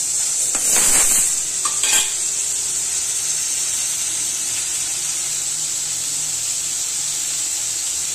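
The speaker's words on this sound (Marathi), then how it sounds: "अद्रक लसूणची पेस्ट ही टाकलेली, चांगली भाजून घ्यायची." Ginger garlic paste roasts in a pan for misal, a loud close sizzle that starts with a few clattering stirs and scrapes, then settles into an even, continuous hiss.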